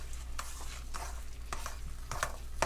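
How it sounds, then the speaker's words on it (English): Crab puff filling of pasteurized crab, breadcrumbs, scallions and Parmesan being stirred together in a bowl, a steady scraping and mixing rustle with soft periodic knocks, close and fairly quiet, with no talking. "Now we're going to mix this up again until everything is fully incorporated."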